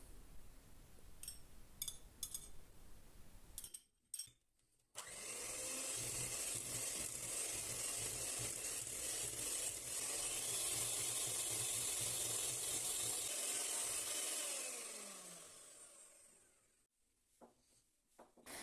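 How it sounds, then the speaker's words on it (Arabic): Cake batter being beaten with an electric mixer after oil is added, a steady close whirring hiss that runs for about ten seconds before cutting off, with quieter clinks before and after. "نضيف الزيت ونكمل الخفق"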